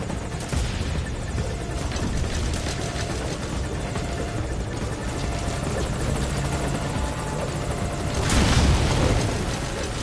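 A helicopter from the video game Metal Gear Solid V: Ground Zeros drones steadily throughout with thick rotor chop and a broad whirring roar, swelling louder near the end, with no voices.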